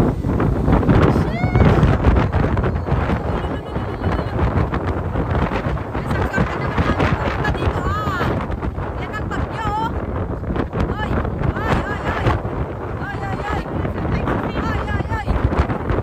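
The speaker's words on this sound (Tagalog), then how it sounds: "Ang lakas ng hangin." Strong wind from a storm roars steadily across the microphone throughout, a loud, constant buffeting rush with a voice briefly audible beneath it.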